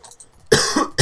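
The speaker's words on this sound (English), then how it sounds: "Ah, stupid cough." Two harsh, close coughs from a person, one longer burst followed by a short second one after a brief gap.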